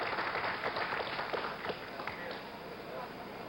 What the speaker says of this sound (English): The President signaling for applause from the crowd.